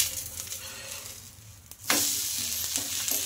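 Oil poured onto a chana (chickpea) dosa on a hot pan bursts into a sudden, loud sizzle partway through, rising over a quieter frying hiss and continuing steadily.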